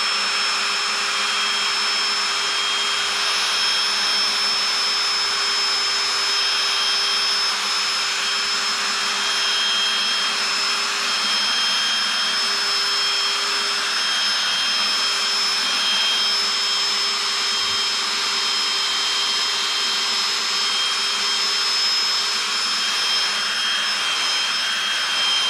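A power sander works a C6 Corvette headlight with 800-grit sandpaper at slower speed, giving a continuous, loud, steady whine and hiss throughout.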